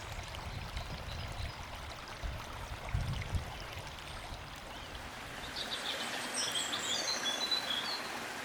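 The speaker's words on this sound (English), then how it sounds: "the bird song is so loud" Birds chirp and sing in woodland beside a cascading stream, a steady rush of running water underneath and a cluster of clear high calls rising in the last few seconds.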